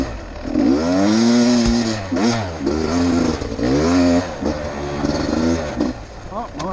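Beta 300 two-stroke enduro dirt bike ridden through woods with deadfall, its engine revving and bogging in repeated surges, loud and close, with a voice talking over it in places.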